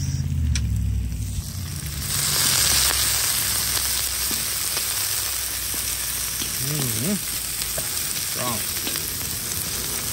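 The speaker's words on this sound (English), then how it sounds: "Green onion, jalapeños. Give that a mix." Green onion and jalapeños sizzle loudly as they are stir-fried for salt and pepper shrimp, a steady hot frying hiss with scraping stirs throughout and a brief voice partway in.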